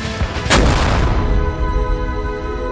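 A single heavy cannon blast booms at close range, followed by a long rumbling roll that slowly fades.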